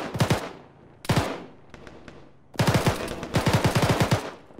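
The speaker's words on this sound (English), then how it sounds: "Shots northwest, west northwest." Automatic gunfire in the Arma military game during a ShackTac session, several sharp rapid bursts with short gaps, the longer bursts near the end loud and close, echoing tails between them.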